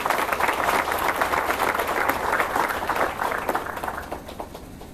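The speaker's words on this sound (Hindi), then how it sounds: "एक बार तालियों से उनका स्वागत।" An audience at a university Independence Day ceremony breaks into sustained applause to welcome guests, a dense, steady wash of many hands clapping that fades slightly toward the end.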